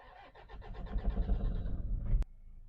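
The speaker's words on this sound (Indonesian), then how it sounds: "Sekarang kita nyalakan mobil ini." A 2008 Toyota Kijang Innova 2.5 G diesel cranks and catches, a rhythmic starter chug building into a loud idle rumble for about two seconds before cutting off abruptly near the microphone.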